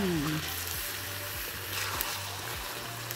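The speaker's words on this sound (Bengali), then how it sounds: "এখানে আমাদের কষা মাংস রেডি হচ্ছে আর মা রান্না করছে" Spiced meat (kosha mangsho) frying in a pan on a home stove, a steady close sizzle and bubbling with occasional stirring sounds and a low hum underneath.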